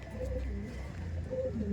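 Pigeons coo softly in low, murmuring calls, repeated a few times at a modest distance.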